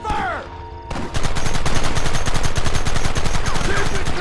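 Sustained rapid gunfire in Red Dead Redemption, a dense, loud fusillade of repeated shots starting about a second in and continuing without pause, with a brief shouted voice before it begins.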